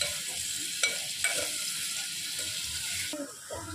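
Onions frying in a pan for kaleji ka salan, a steady sizzle under repeated scraping stirs, close and fairly quiet with small clatters of the spoon.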